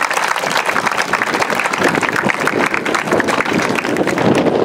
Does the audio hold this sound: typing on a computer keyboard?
no